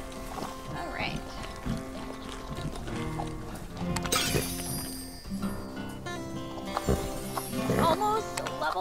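Horses on a ranch in the Horse Haven video game, with clip-clop hooves and faint whinnies set against game music while a person talks over them.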